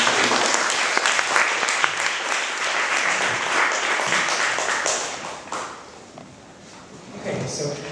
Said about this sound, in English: let's give Ms. Ho a hand of applause